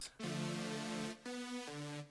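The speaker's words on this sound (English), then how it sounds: "I made this like saw pad. It sounds like this." A synth saw pad swells in with a buzzy, bright sustained chord, drops out briefly, then returns on a new chord that steps down again, playing on its own.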